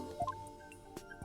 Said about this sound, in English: The sound of bells changes to the sound of water at one point.